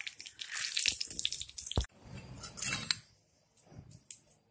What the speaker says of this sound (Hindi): तो ऐसे हम चम्मच से निकालेंगे और तड़के पे थोड़ा थोड़ा तेल फैलाएंगे